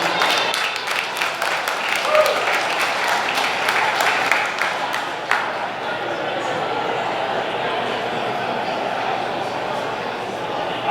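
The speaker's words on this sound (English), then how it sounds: "give these guys a big round of applause again" A banquet crowd at a speedway awards night in the Wichita Union Stockyards applauds loudly for several seconds, then the clapping thins into a room murmur with voices talking.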